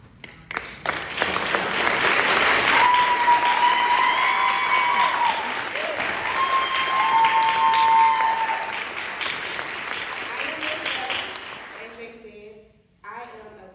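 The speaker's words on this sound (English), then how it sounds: "please stand up right now so we can give you a round of applause" Enthusiastic audience applause at an artists' pitch night, opening with scattered claps that swell into sustained dense clapping with some cheering, then fading out as a voice begins speaking at the end.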